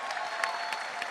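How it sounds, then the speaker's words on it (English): An audience applauding performers at an evening literary event, steady dense clapping from a crowd throughout, moderately loud and with no speech over it. "Can we give another round of applause for the performers?"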